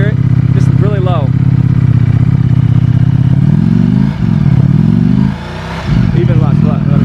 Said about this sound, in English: when it's just chilling and you give it like low revs, it sounds like a twin